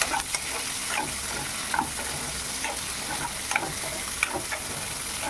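Chopped onions frying in a pan over potatoes already browning, stirred with a utensil: steady broadband sizzle with scattered scraping clicks of the spoon, close and moderately loud, no voices.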